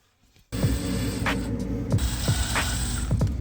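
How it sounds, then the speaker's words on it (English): A power drill bores holes into solid plastic upgrade parts for an Ender 3 V2 3D printer. It starts abruptly and runs as a steady, close, loud motor whine with a faint grinding texture. "So now they need to be drilled."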